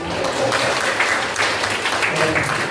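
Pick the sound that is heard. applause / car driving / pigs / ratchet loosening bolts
applause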